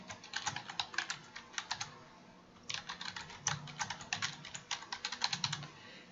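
Quiet, quick keystrokes on a computer keyboard as a title is typed into an Adobe Spark page, arriving in two bursts separated by a brief pause.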